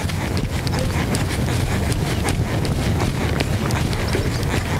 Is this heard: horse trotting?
yes